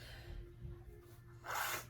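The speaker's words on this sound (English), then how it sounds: "I gotta sneeze, guys" A single short, breathy sneeze bursts out near the end after a quiet stretch with a low hum in the background.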